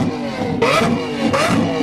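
A car engine revs twice in quick succession, loud and close, rising sharply in pitch on each blip over a steady idle rumble.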